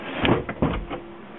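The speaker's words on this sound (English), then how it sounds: "let's close the door." A door being closed during a bench setup for measuring an RF power attenuator: a couple of soft thuds and a latch-like knock, close and moderately loud, in a quiet room with no talk.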